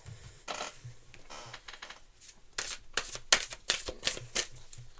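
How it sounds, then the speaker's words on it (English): Tarot cards are shuffled and drawn in rapid, crisp riffling bursts, a dense run of close papery snaps and flutters in an otherwise quiet room. "So let's pull one more card."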